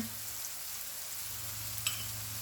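Onions and sprinkled flour frying in oil in a pan for a pork chop gravy, giving a soft, even sizzle with one brief clink partway through.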